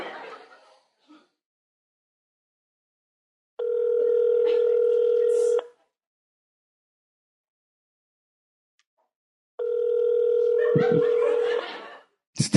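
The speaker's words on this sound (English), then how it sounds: "It's ringing." Outgoing phone call ringback tone, heard as two steady ringing bursts of about two seconds each with silence between them, and a brief chuckle near the second ring.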